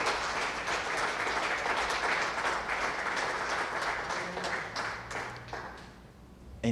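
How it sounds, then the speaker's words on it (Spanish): Congregation applause in church, a sustained dense wash of clapping that thins into scattered claps toward the end, with faint voices beneath. "Damos aplauso al Señor."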